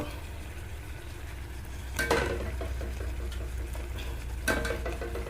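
A spoon scraping and stirring meat with tomato in a frying pan over steady low sizzling, with two sharper metallic clinks against the pan.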